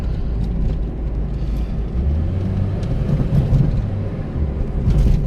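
An Acura RSX with a lit check engine light and a suspect throttle body gasket idles close by, giving a steady low engine rumble with no talking.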